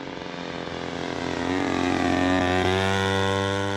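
A Seagull Models giant scale Zero RC plane with an EME60 gas engine flying at full power, a loud, buzzing propeller drone that swells and shifts pitch as it passes close, with no talk.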